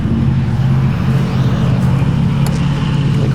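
A 1994 Toyota Camry Wagon driven slowly around a yard, its engine giving a steady, loud, continuous low hum and road rumble with no voices over it.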